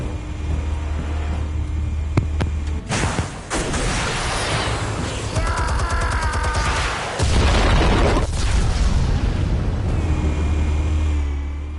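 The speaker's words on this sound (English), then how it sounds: "Explosives armed. Fire when ready." Explosives go off in a Batman video game on PS5, a burst of loud booming blasts and rumbling debris over a steady low engine-like drone, followed by more crackling impacts before the drone resumes.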